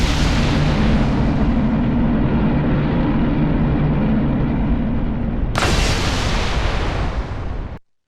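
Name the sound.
Halo ship main cannon firing in Arma Reforger video game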